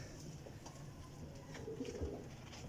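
Teddy golden flying pigeons cooing faintly in a loft, a couple of low soft coos near the end over a quiet, hissy background.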